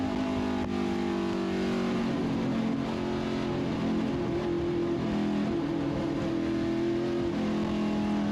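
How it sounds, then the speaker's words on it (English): Stock cars race through the sweeper at Winton Raceway, a loud sustained engine roar with layered tones as several cars pass, the pitch rising and falling gently without any voices. "Let's listen to it as it comes through the sweeper."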